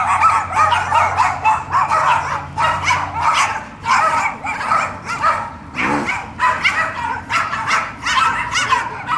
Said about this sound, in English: You got the worst dogs in the neighborhood.